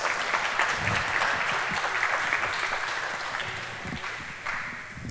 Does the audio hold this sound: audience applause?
yes